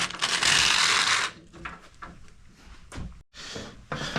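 Wheel nuts on a Stella rebuild are torqued down with a ratchet, giving bursts of close, gritty clicking and rasping with brief pauses between strokes.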